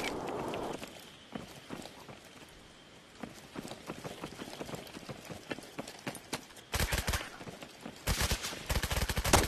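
Gunfire in the VR shooter Contractors Showdown played on a Quest 3: dense bursts of rapid shots crackle in two loud volleys near the end, preceded by scattered footsteps and lighter impacts.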